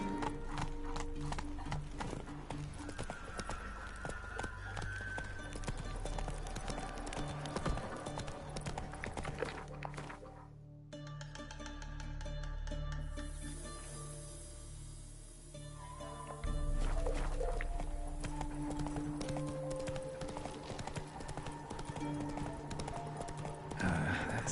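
Hooves of Roach, a horse in the game The Witcher 3, clop in a quick, steady gallop rhythm at close range, mixed with game music and ambience, with a short quieter stretch midway and soft speech at times.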